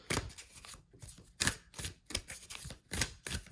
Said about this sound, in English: So we're just going to shuffle one of these cards for you as well.